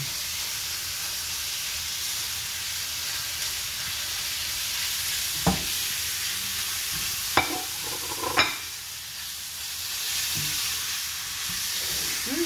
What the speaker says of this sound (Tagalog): Now we're going to add the chicken mince or minced chicken.